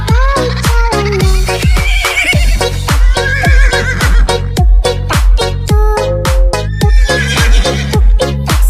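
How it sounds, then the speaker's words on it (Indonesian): Horse hooves of a delman, a horse-drawn cart, clip-clop in a steady, even rhythm within a bright children's song, loud and close under the music, with a horse-like whinny. "Tuk-tik-tak suara sepatu kuda."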